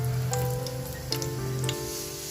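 Bay leaves, cinnamon sticks and star anise sizzle in hot oil for a chole curry, giving a steady frying hiss with scattered small pops and crackles, close and moderately quiet over a faint background hum.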